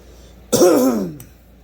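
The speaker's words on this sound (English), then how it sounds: "I've been coughing a lot." A single loud, close throat clearing, a rough guttural rasp falling in pitch that tails off into a short cough-like grunt.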